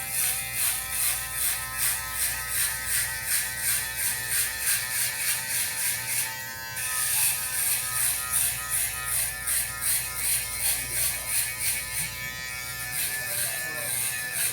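Steady, close electric shaver buzz running continuously through hair with a slightly pulsing rhythm, briefly dipping once partway through.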